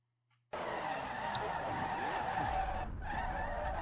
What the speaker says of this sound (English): got a little bit of wheel spin in there, and that sent the car out into the grass